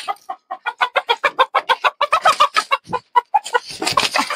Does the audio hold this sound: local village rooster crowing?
yes